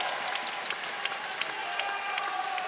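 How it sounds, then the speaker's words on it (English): A French crowd at a men's recurve team archery gold final in Vittel cheers and applauds in a steady, dense roar that sounds somewhat distant. "The French crowd is going wild right now."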